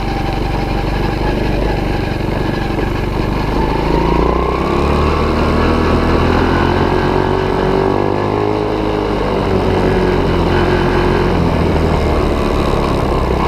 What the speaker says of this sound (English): this thing runs a lot better than I thought it would. It's a perky little engine.